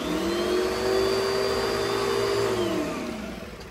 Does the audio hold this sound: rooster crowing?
no